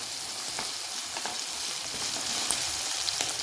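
Curry leaves frying in hot oil for broken wheat upma, a dense continuous crackling sizzle with faint spatters and occasional light stirring taps, close and without talk.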